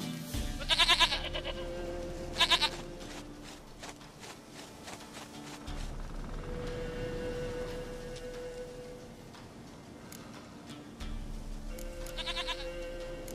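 Goat bleating in The Witcher 3 countryside, a few short wavering calls near the start and again near the end over a steady low ambient drone.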